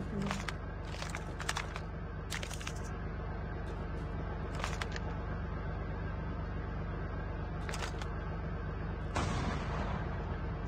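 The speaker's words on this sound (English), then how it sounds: "Saya tolong tembak tu tank." Gunfire aimed at a tank in a battle video game: a string of sharp shots in irregular bursts over a steady engine-like rumble, up close and loud, ending in a heavier blast-like swell.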